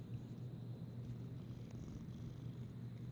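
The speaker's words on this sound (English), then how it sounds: "Oh, he's purring." A cat purrs close by in a steady, continuous low rumble that holds evenly throughout, with no voices over it.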